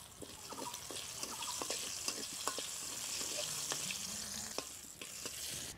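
Dried chilies frying in hot mustard oil give a constant crackling sizzle throughout, dotted with sharp pops and spatula clicks, quiet and close, with no voice.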